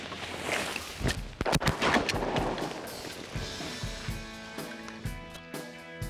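Shotgun blasts during a duck hunt in Missouri wetland habitat, a few sharp close reports in quick succession around the middle, followed by a ringing outdoor tail.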